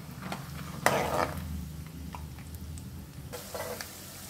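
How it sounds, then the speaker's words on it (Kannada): A bowlful of peanuts frying in oil in a pan gives a moderate sizzle with stirring scrapes, a sharp clatter near the start and another burst of rattling toward the end. "ಈಗ 1 ಬೌಲ್ ಅಷ್ಟು ಕಡಲೆಕಾಯಿ ಬೀಜ ಹಾಕೋತಾ ಇದ್ದೀನಿ. ಚೆನ್ನಾಗಿ ಫ್ರೈ ಆಗಬೇಕು."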